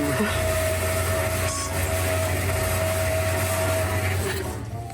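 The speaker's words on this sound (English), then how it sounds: "There's a lot going on there for just a flush." A camper van toilet flushes with a loud, steady mechanical roar and whir that runs without a break and fades slightly at the end.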